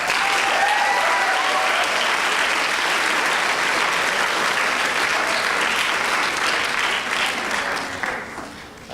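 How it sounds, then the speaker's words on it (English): Sustained audience applause at a college forensics team speech night, a dense wash of many hands clapping that holds steady and then tapers off near the end. "please give a round of applause to Mr. Daniel Lopez."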